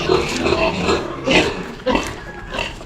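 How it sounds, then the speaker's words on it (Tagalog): Sows and newborn piglets grunt and squeal close by in a pen, a busy cluster of short snorts and oinks bursting out irregularly. "Ang daming baboy dito mga agrasa."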